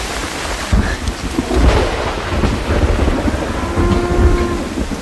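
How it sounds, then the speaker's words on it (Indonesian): Heavy rain pours down at night in a film scene, a loud, continuous wash of falling water with low rumbles of thunder rolling beneath it throughout. "Hujan yang deras malam itu"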